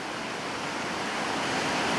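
The Big Joe rapid on the Yampa River at high water in late May: a loud, continuous roar of rushing whitewater that holds steady and builds slightly, with no voices.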